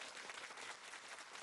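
Researchers at the Chinese space agency applauding together after a Mars lander touchdown, a dense, steady clatter of clapping from a room full of people, heard fairly faintly.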